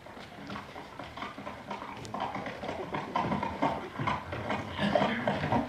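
Clip-clopping horse hooves used as a stage sound effect in a theatre production, a run of irregular, moderately loud hoof beats that builds slightly toward the end.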